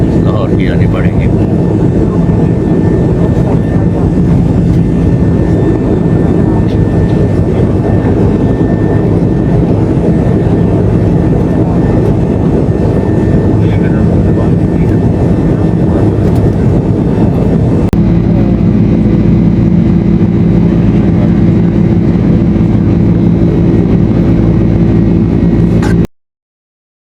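Steady, loud broadband drone inside the cabin of a Serene Air Airbus A330 in flight between Karachi and Lahore, continuous rumble with a slight shift in tone partway through, then cutting off abruptly near the end.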